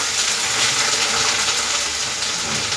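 Steady rushing of water driven by a motor pump, a continuous gushing flow without pause, fairly loud and close, with no voices.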